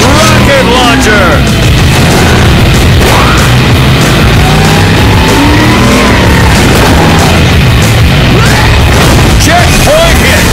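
Rocket launcher blasts in the vehicular combat game Blood Drive, loud booms and crashes over a constant engine roar, with a voice speaking in the mix.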